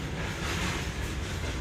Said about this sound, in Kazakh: 78-ші пойыз, Маңғышлақ Алматы бағытындағы.